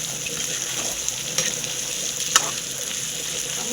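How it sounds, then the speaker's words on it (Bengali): Chicken masala frying in a pan, a steady broadband sizzle with faint crackles and a couple of sharper pops, continuous and close throughout with no talking. "আমি আরও 2-4 মিনিট ভেজে নেবো।"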